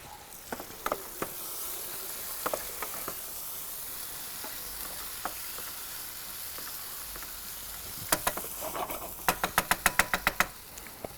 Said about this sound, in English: Just let it poach in this little tomato sauce.